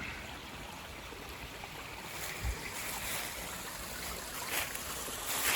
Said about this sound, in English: down there is where the entire creek is flowing